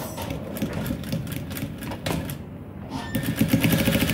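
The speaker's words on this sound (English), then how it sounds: "Stitch it down straight, just like this." A sewing machine stitches boxer shorts fabric in a straight line. The motor whirs steadily and close throughout, with slight changes in pace.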